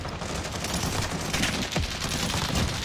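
Dense automatic gunfire rattles through a video game match, rapid continuous shots layered with impacts and game effects, loud and close throughout.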